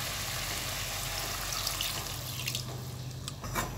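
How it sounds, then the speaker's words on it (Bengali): Half a cup of water poured into chicken feet curry cooking in a pan, a steady close splashing wash of liquid running throughout, with a few brighter spattering bursts near the end and no voices. "আমি এখানে 1/2 কাপ পরিমাণের মতো পানি দিয়ে দিচ্ছি।"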